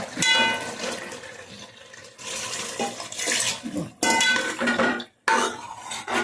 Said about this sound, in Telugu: ఇప్పుడైతే వాటర్ పోస్తున్నాను అనమాట